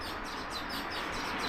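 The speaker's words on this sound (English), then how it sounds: "More birds here. These are river birds making some nests." River birds chirp steadily near their nests beside a rising building in a village setting, with a dense, continuous layer of close, bright tweets and calls throughout.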